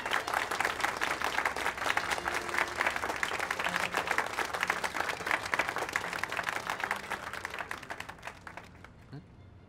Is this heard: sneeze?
no